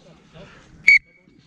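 A referee blows a short, sharp whistle blast at a Division 1 rugby match between Cowichan and Westshore, a single loud tone following quiet background noise.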